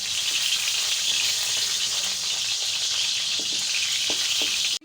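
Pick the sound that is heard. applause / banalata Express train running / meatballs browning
meatballs browning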